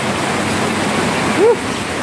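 Floodwater rushes after rain in a flooded rural yard, producing a loud, steady broadband roar like a torrent that continues without a break, with a brief faint voice-like sound partway through.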